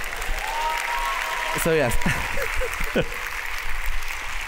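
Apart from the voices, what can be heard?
audience applause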